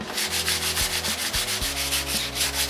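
A boat's topside being hand-sanded with 400 grit sandpaper, rhythmic back-and-forth scraping strokes repeating steadily and close by, loud and alone without voices.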